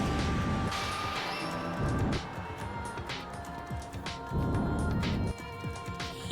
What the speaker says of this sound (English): The crystal ball also apparently made the sound of pottery when it shattered, despite it being glass and not making a glass noise.